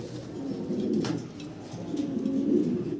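Large shoking pigeons coo nearby in low, throaty, rolling murmurs that swell and fade, with a brief flutter midway and no talking.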